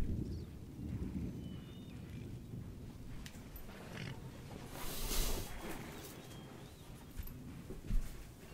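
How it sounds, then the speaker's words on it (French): Low rumbling thunder in a Napoleon Total War battle, a steady distant roll that swells around the middle and again near the end, with no talk over it. "Ah, il y a de l'orage."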